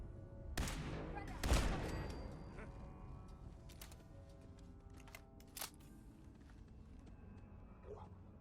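Gunfire while shooting a turret in the Fallout 4 video game: a few sharp shots and bursts, loudest early, then scattered fainter reports against a low background rumble.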